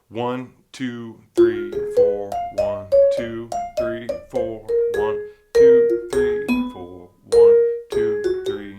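A vibraphone plays the opening bebop phrase of a solo, a flowing run of struck mallet notes, each ringing briefly, while a voice counts beats over it.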